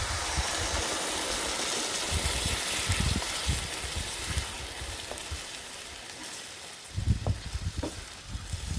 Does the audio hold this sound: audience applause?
no